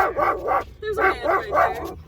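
A dog in the back of a car barks and yips close by in a quick run of about half a dozen sharp calls, with a brief whimpery break partway through.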